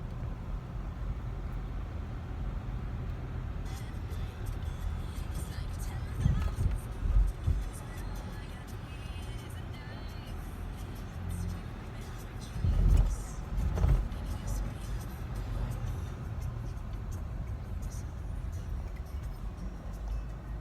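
Steady low engine hum and road rumble from inside a moving car, with a couple of louder bumps along the way and no talking.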